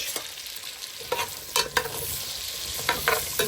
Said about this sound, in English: Browning up the root veg.